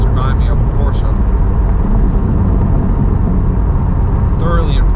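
A BMW M4 G82 with a downpipe and straight-piped Valve Master titanium exhaust drones loudly and steadily, a thick continuous rumble with no clear rev changes, close by.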